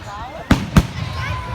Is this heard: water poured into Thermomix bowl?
no